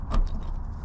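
Keys jangle briefly at the door of a UAZ Bukhanka van, a short close metallic rattle in the first moments over a low rumble of background noise, with no talk.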